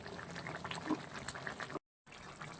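Bengali fish curry with vegetables bubbles steadily in a pot, a close, continuous boiling and simmering hiss with small pops, cut by a brief moment of silence before it resumes.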